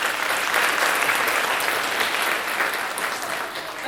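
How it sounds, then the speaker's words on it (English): Loud, steady applause from an audience at a Bharatanatyam Arangetram graduation performance, with dense clapping sustained evenly throughout without pause. "They truly deserve the biggest round of applause."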